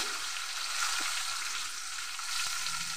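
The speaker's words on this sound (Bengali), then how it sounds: "2 সেকেন্ড সময় ধরে ফোড়নটাকে ভালো করে ভেজে নিয়ে এতে দিয়ে দিলাম 1 চামচ আদা বাটা।" Cardamom, cinnamon and cloves fry with a spoonful of ginger paste in oil for a fish-head murighonto, giving a quiet, steady hiss with only faint stirring.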